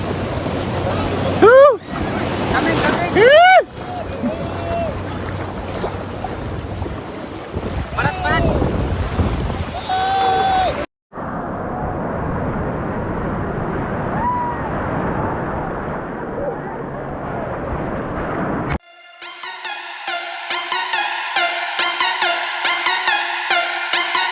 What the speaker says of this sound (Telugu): వేవ్స్ అయితే మస్తు ఘోరంగా వస్తున్నాయి